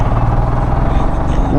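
A vehicle fitted with fog lights overtakes on a mountain road in Uttarakhand, its engine a steady, close, loud drone throughout while someone talks over it.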